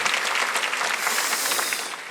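A church congregation claps together during a Sunday worship service, a dense, steady wash of many hands filling the room and tapering slightly at the end.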